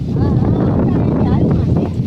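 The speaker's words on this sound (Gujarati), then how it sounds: "હા, પવનનો અવાજ આવતો હે." Wind blows outdoors at a farm plot, buffeting the microphone with a constant low roar beneath people talking.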